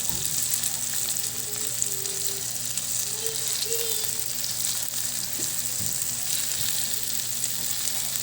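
Bitter gourd sautéing in a frying pan as it is stirred, a steady close sizzle and crackle running throughout with faint scrapes of the utensil, no talking.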